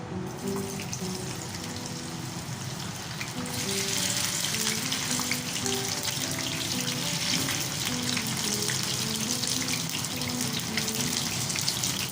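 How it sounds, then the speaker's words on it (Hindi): Okra dropped into hot oil for Pakistani bhindi gosht sets off a steady hissing sizzle that swells after a few seconds and holds, loud and close, with no voices. "तो हमारा ऑयल गर्म हो चुका है, अब हम इसमें भिंडी डालते हैं।"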